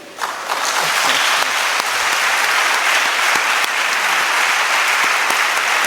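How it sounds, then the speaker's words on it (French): A large church audience applauds loudly and steadily, a dense wash of clapping that swells quickly and holds throughout. "Mais vous n'avez pas beaucoup applaudi là."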